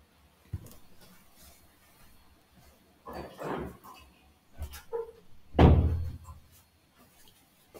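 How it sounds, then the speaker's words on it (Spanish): A door being closed indoors before rain: a few soft thumps and scraping handling noises, ending in a heavier thud as it shuts, with no talking over it. "cierro esta puerta"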